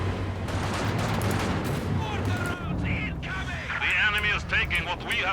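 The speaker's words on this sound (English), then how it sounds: "Oh, good Panzer 4 shot in there." A Panzer IV tank cannon firing in the Company of Heroes 2 strategy game, heavy booming shots amid continuous battle noise of gunfire and explosions, with a commentator talking over it.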